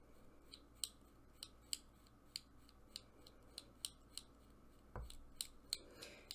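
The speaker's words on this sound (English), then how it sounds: "You can hear my knife kind of clicking against the plaque." A knife scrapes the tip of an oboe reed and clicks against the plaque: quiet, sharp, close clicks repeat at a steady pace of about two per second over a faint scraping hiss, with no talking.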